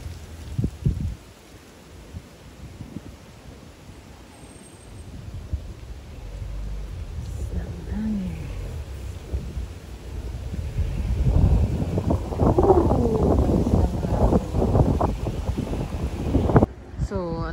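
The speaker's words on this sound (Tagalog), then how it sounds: "Ang lakas ng hangin." Strong autumn wind buffets a microphone outdoors on a street in South Korea, a rough broadband rumble that swells and grows louder toward the end, with faint traffic-like noise underneath.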